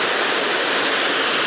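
An artificial waterfall of concrete, rebar and piled stones on a mountain river in Chechnya pours in a dense, steady roar of rushing water, loud and close, with no voices.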